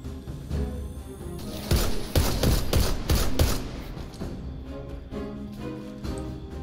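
Rapid gunfire bursts in the video game Destiny 2 build into a dense, loud volley over a couple of seconds, then fade back to a rumbling background of game noise with no talk.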